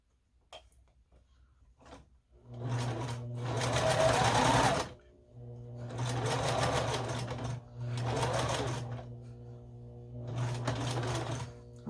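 A sewing machine stitches quilt rows together in four loud, steady runs of rapid needle chatter with a humming motor, separated by short pauses and faint handling clicks.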